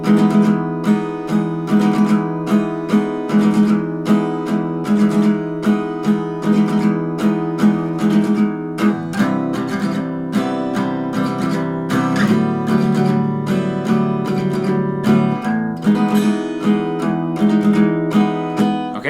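Rhythmic acoustic guitar strumming with quick triplet flicks between the main beats, steady and close, no voices.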